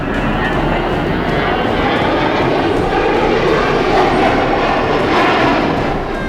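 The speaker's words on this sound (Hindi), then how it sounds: "ताइवान स्ट्रेट में चीन के साथ रूस के फाइटर जेट्स की उड़ान ने महायुद्ध की आशंका बढ़ा दी।" A fighter jet roars overhead in a loud, continuous broadband engine rush that swells slightly toward the middle and fades at the end.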